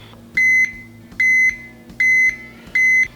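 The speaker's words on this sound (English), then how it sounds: "this one has an audible sound, so when the circuit closes, when it makes contact, it beeps like that" Multimeter continuity beeper sounding as the probes make contact: four loud, steady electronic tones, each about a third of a second long, repeating at an even rhythm with short gaps between them.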